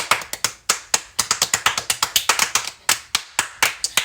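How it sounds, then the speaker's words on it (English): Hands clap sharply and close by, about two dozen quick claps in a loose, uneven rhythm that speeds up and slows down, with no voices over them. "Everybody clap your hands."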